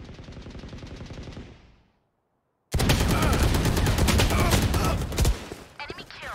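Bucky shotgun blasts from Valorant, several loud, dense bursts of gunfire, then a short silent gap before a louder, sustained stretch of shooting and game noise.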